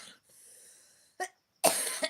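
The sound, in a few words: coughing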